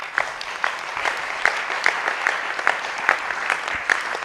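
A church congregation applauds steadily, with many hands clapping in a dense, continuous wash that has rhythmic peaks, fairly loud and close, with no talking over it.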